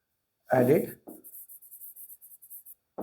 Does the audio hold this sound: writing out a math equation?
yes